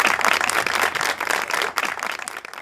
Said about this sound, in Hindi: बहुत तालियां दी आपकी वालिदा के लिए